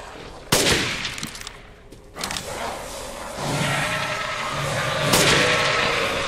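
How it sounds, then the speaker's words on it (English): Shotgun blasts in the Resident Evil Village video game, two loud, sharp booms several seconds apart over noisy game sound, with a smaller report between them. "Oh, shotgun time."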